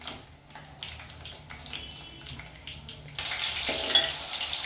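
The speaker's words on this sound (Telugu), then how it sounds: "ఒక రెండు నిమిషాలు ఫ్రై చేసిన ఇలా రెండు కానీ మూడు నిమిషాలు కానీ ఫ్రై చేసేసుకొని తీసేసుకోవాలి" Stuffed brinjal (gutti vankaya) curry fries in a pan with an uneven sizzle that swells into a louder, brighter hiss partway through, with no talking.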